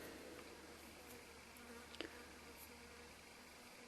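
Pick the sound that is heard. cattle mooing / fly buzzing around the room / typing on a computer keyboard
fly buzzing around the room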